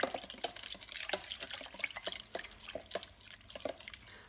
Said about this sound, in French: Je y verse dedans ma levure que je vais mélanger pour délayer.